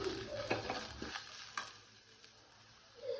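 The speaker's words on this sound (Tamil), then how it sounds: "இஞ்சி பூண்டு பேஸ்ட்டு போட்டாச்சு, நல்லா வதக்கியாச்சு" Ginger garlic paste and chillies being sautéed and stirred in a pan for a plain salna gravy, with soft sizzling and a few scraping stir strokes early on, then quieter frying with no talk.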